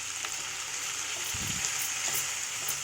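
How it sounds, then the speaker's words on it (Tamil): Chutney ingredients fry in a pan with turmeric powder, a steady soft crackling sizzle held at an even level throughout, with a few low stirring bumps partway through and no talk. "இதில் மஞ்சத்தூள் போட்டு வறுத்துக்கலாம்."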